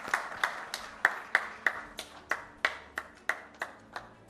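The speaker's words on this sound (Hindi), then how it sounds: "जोरदार तालियां हो जाए श्री अनवर खान जी के लिए।" A dozen or so sharp, evenly spaced claps ring out one after another at a recognition ceremony honouring COVID vaccination workers in Dewas, sounding like a small group or single clapper rather than full applause, with no voices over them.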